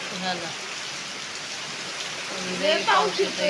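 Steady rain falling on surfaces in a village during the afternoon, a constant patter with faint voices and a few brief human sounds mixed in toward the end.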